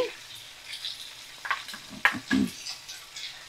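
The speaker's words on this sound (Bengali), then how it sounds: "এখানে দেখো সর্ষে এক চামচ পোস্ত বাটা আর তিন চামচ সর্ষে বাটা আমি দিয়ে দিচ্ছি" Mustard and poppy seed paste goes into a pan over a low flame, giving a soft sizzle with a few scraping stir strokes and one sharp clink, close and quiet, with no talking.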